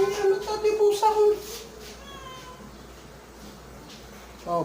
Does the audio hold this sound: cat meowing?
yes